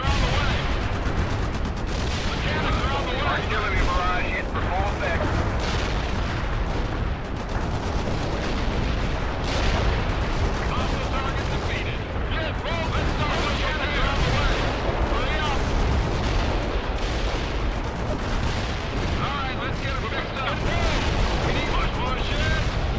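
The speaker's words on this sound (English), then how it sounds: "Let's just bring down some heavy artillery there." Heavy artillery pounds a battlefield in the World in Conflict strategy game, a dense, continuous roar of overlapping booms and gunfire lasting throughout, with a voice talking over it now and then.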